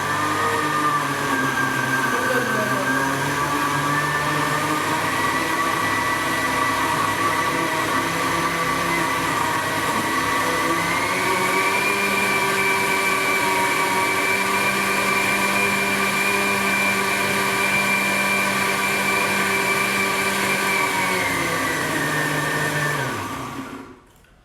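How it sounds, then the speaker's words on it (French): A blender in smoothie mode mixes a cocktail, a loud continuous motor whine whose pitch shifts and steps up midway before spinning down at the end. "Je mets en mode smoothie. Je sais pas comment ça marche. Smoothie."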